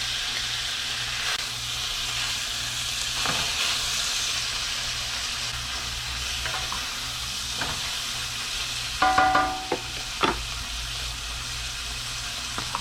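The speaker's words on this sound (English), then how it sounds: "Put it in the pan. And get this nice. Just like that. Start smoking. Go ahead and add the bacon." Bacon frying in a smoking hot pan with grapeseed oil, a steady close sizzle and hiss throughout with a few brief clinks and stirring sounds, no talking.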